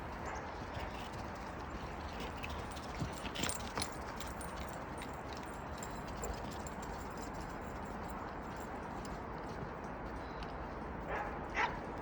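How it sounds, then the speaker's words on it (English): Dogs romp around with occasional barks and whimpers, jingling tags and scrabbling paws in the background, fairly quiet overall. "a clip of all the fun the dogs and I were having today"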